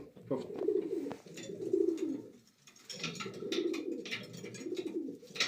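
Racing pigeons coo in soft, repeated rolling phrases, close by in a breeding loft, with faint scuffling and fluttering in the background.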